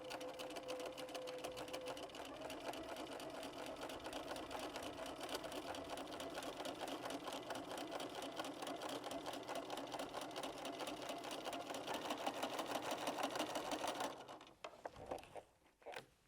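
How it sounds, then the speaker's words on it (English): Sewing machine stitching quilt fabric along a crease line for an hourglass quilt, a fast steady whirring rattle running continuously, then slowing and stopping with a few final clunks near the end. "I'm going to machine all the way down"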